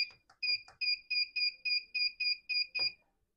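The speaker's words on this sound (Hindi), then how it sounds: "उसके बाद टाइमर को स्टार्ट करेंगे।" A TENS physiotherapy machine beeps as its timer is started, a steady run of about nine evenly spaced, clear electronic tones, close and fairly quiet, with a few soft clicks at the start.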